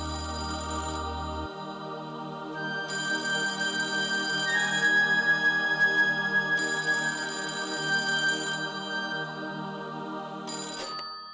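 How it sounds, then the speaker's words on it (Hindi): A phone ringtone plays loud and continuous for about eleven seconds, a repeating electronic melody that swells and drops in sections, with no one talking over it. "फोन बज रहा है"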